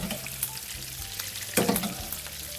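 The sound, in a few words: chicken fillet frying, basted with thyme butter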